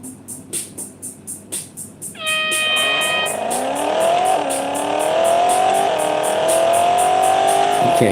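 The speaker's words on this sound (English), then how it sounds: "This car sounds like a beast." Stock Lexus race car engine in the Real Racing 3 video game: after a few rhythmic pulses, the engine roars in loudly and holds a steady, rising whine through several gear shifts, with no talking.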